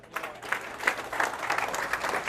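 A short burst of audience applause at an end-of-year career pathways school celebration, with uneven, fluttering claps rising and falling at moderate loudness across a few seconds.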